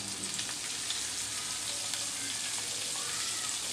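Slices of pointed gourd (potol) fry in hot oil with turmeric in a pan, giving a steady, close sizzle and crackle throughout with no talking.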